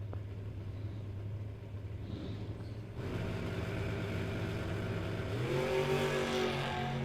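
Race cars, including an '86 Grand Am, run at a Mutt and Jeff race event, their engines giving a steady rumbling drone that swells as a car accelerates and revs higher, heard from a distance without talk.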